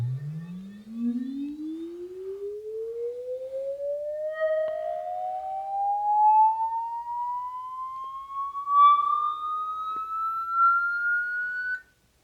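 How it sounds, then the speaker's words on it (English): A pure electronic calibration tone from a singing bowl device sweeps smoothly upward in pitch for about twelve seconds, steady and clear, then cuts off abruptly. "it'll run a frequency sweep on your bowl"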